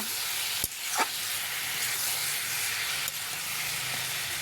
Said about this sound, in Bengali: লাউটা ভাজা হয়ে গিয়েছে এখন ঝোলের জন্য জল দিয়ে দেবো